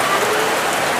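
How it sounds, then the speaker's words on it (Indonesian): Heavy rain pours down steadily, a dense, loud hiss of drops hitting surfaces close by with no pauses. "Tuh hujan, lihat. Gede lagi teteh tuh."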